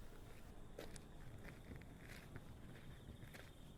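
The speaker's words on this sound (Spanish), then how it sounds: "¿Recuerdan cómo suenan las pisadas en la tierra?" Footsteps crunch on dirt as a sound effect, a few soft, uneven steps spaced across a quiet, faint background hiss with no talking.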